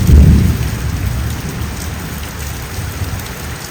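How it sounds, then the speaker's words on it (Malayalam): Heavy summer rain pouring steadily, with a deep roll of thunder at the start that fades into the constant patter. "വേനൽ മഴയുടെ ഒരു ഭാഗമായിട്ടാണ് ഈ മഴ പെയ്തത്"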